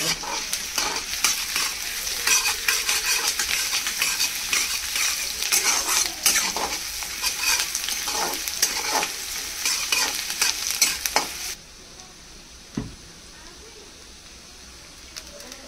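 Five small onions fry and get stirred in a pan, a loud continuous sizzle broken by quick scraping strokes, then the cooking drops away to quiet room noise with a single knock.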